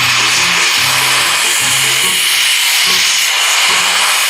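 A loud, steady roaring hiss of a torch heating metal in a body shop, with a low intermittent hum running underneath throughout.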